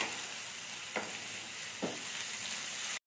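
Strips of capsicum and tomato frying with onion, ginger and garlic in a pan, a steady close sizzle broken by two brief scraping stirs of a spatula, then a sudden cut near the end.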